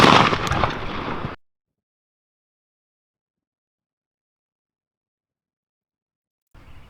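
A shotgun fires a single Hornady Turkey Magnum turkey shell in one loud, sharp blast that cuts off abruptly, followed by silence.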